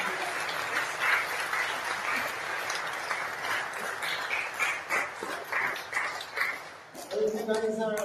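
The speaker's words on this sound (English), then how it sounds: "Let me give a huge round of applause" Applause from a youth festival audience, a dense patter of many hands under crowd noise and talk, tapering before a brief tonal sound closes it out.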